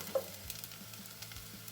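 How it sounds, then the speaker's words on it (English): Onions softening in a pan for a whiskey barbecue sauce, a quiet, even sizzle with faint stirring taps and a soft low hum, close and alone. "my onions have been cooking up for about 5 minutes and they're looking pretty tender"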